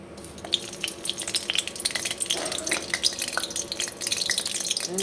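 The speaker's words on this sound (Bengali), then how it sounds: "এই 2টো শুকনো লঙ্কা এই যে গরম তেলে দিয়ে দেব" Dried red chillies dropped into hot oil, a close crackling and spitting sizzle with scattered sharp pops and faint kitchen clatter, steady throughout with no talking.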